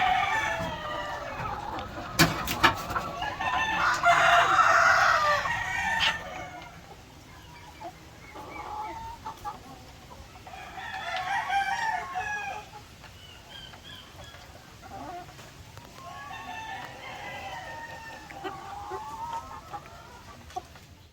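Barred Rock chickens cluck and call in bursts, with a rooster-like crow standing out near the start and quieter clucking continuing afterward.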